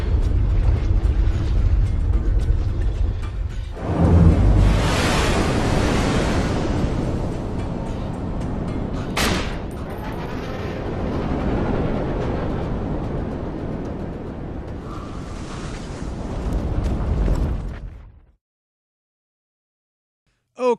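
Terramorphous emerging in a Borderlands 2 cinematic: deep rumbling eruptions and crashing booms swell and fade over many seconds, with a sharp burst partway through, then the sound cuts to silence.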